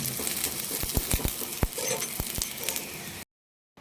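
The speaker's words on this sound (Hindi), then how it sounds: "तो पराठे में लगा रहे हैं तेल।" Paratha cooking in oil on a pan, giving a steady close sizzle with scattered sharp crackles and pops throughout, ending in a short silence.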